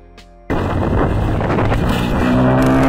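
A phone thief's motorbike speeds away, its engine roaring loud and close right after a brief quieter moment, with a steady revving drone that holds through to the end.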